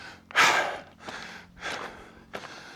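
A hiker catches their breath near a volcanic summit in the Ardèche after climbing, with four heavy breaths, the first loudest, coming close to the microphone at a slow, uneven rhythm.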